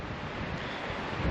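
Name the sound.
gusty wind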